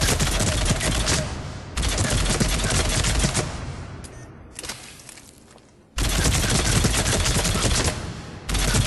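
Phaeston assault rifle from Mass Effect 3 fired from the hip at point-blank range in rapid bursts; loud crackling volleys separated by short pauses, with one longer gap partway through.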